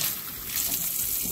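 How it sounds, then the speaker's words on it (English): Hands washed under a running kitchen sink tap, a steady close rush of flowing water with slight splashing changes and no talk. "Let me wash my hands again."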